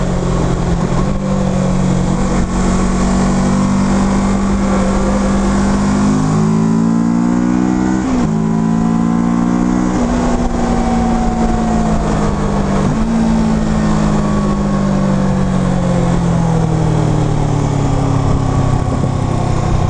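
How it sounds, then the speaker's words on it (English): Kawasaki Versys motorcycle engine on the twisty Needles Highway, loud and close, its drone rising and falling in pitch as the rider shifts and changes throttle through the bends, with heavy wind rush over it. "Flicking that bike left and right,"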